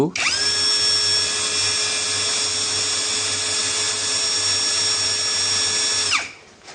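An APR 12 Pro power tool runs steadily at its lowest speed setting for an RPM test, giving a loud, continuous high-pitched whine with a low hum beneath, starting abruptly and winding down near the end.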